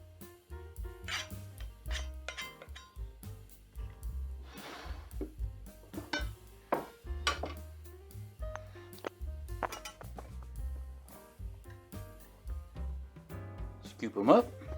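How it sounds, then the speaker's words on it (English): Cannelloni being scooped onto a plate during keto home cooking, with clinks and scrapes of cutlery against dishes and pans, repeated irregularly under a speaking voice close by. "Scoop it up onto the plate."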